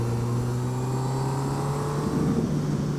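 A 2021 Honda CB1000R Black Edition's inline-four engine under way on a ride, a smooth, steady hum with strong sustained tones and wind rush, rising slightly near the end, with no talking.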